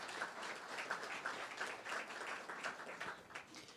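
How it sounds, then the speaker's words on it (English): Audience applause closing a formal session at the Holstein USA exhibit, World Dairy Expo 2016: steady, dense clapping from a crowd, fairly close and continuous throughout, with no voices over it. "definitely give them a round of applause"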